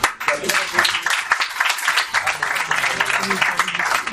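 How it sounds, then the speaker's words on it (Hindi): A church congregation claps for a Sunday school child, a moderate burst of applause mixed with voices talking and calling over it throughout. "कम से कम बोला, इसके लिए ताली बजा।"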